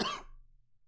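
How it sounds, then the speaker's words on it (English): A single sharp cough from someone who has just taken supplements, loud and close at the start, then fading quickly into near silence. "Took my pills and it's making me cough, dude."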